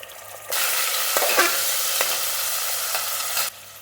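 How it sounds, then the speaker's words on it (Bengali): Onions and tomatoes dropping into hot oil and frying, a loud steady sizzle that bursts on after a brief quiet start and holds evenly for a few seconds before cutting off, close by. "এখানে দিয়ে দেবো তেল, দেবো পেঁয়াজগুলো, দিয়ে দেবো টমেটো,"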